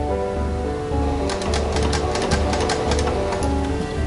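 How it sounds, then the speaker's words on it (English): A sewing machine French-seaming the hip seam of a dress, where a shirred skirt meets the bodice: close, rapid, even stitching that starts after a short pause and runs steadily. "I'm just French seaming the hip seam where the shirred skirt meets the bodice."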